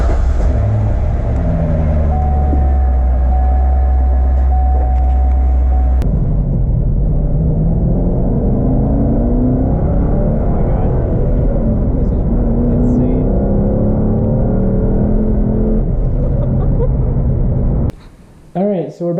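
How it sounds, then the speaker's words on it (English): A Corvette's engine hums and rumbles while driving, its pitch rising and falling through gear changes, with a brief voice near the end. "I think we'll be ready to go for a test drive."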